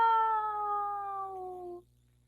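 A teacher's voice imitates a long cat meow, one sustained, clear, nasal miaow close up that slowly falls in pitch and stops abruptly after nearly two seconds.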